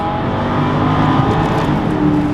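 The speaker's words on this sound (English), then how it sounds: "Sounds like an American V8" A BMW 650ci convertible's 360-horsepower V8 pulls hard in sport mode on a highway, a loud, steady engine drone with rising revs running unbroken throughout, close and continuous with wind noise.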